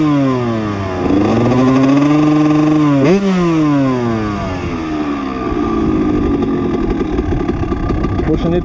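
A 1999 Honda CR125 two-stroke motocross bike engine revs up and down loudly and close, pitch rising and dropping, then settles into a steady running note.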